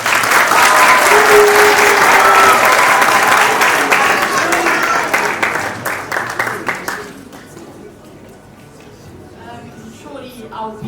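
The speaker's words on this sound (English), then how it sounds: "just a big round of applause for Musti" An audience at an awards night breaks into loud, dense applause that holds steady for several seconds, then thins into scattered claps and fades toward quiet, with some crowd voices mixed in.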